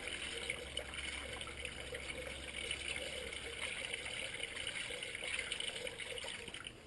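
Coolant trickles and gurgles into the reservoir of an Infiniti G37 during a coolant service, a faint steady fill with no talk over it.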